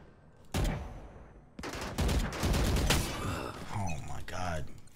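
Phantom rifle fire in a first-person shooter video game, with loud bursts and sustained rapid volleys over several seconds, heard alongside a player talking.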